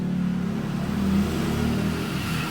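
A Benelli PE 250 FI motorcycle with erratic idle and poor throttle response revs steadily up close, a continuous mid-pitched engine drone that swells slightly over a couple of seconds.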